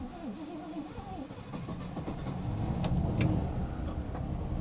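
A 1971 Rover P5b with a 3.5 litre engine cranks and catches, settling into a steady, rising idle with some ticking and fan noise close by, no talking over it.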